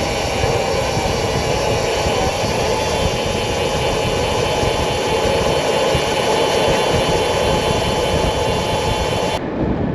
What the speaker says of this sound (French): On n'est pas loin d'Orly, donc forcément il y a plein d'avions dans le ciel.